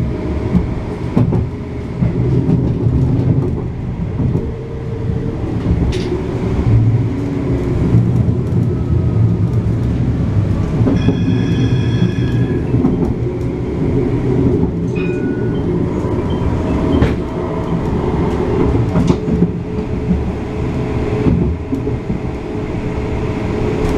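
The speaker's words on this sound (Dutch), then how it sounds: "We gaan met deze tram mee." Interior of a new Amsterdam GVB tram while riding, with a steady loud rumble of wheels and motor, occasional clacks over rail joints and a brief electronic chime partway through.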